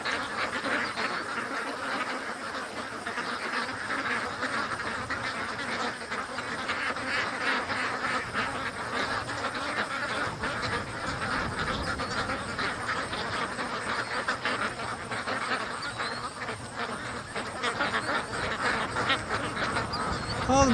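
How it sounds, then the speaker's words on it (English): Ducks quack steadily and agitatedly for the whole stretch, alarmed by nearby killdeers outdoors. The chorus is dense and continuous, with a voice speaking faintly now and then. "the killdeers are freaking the ducks out"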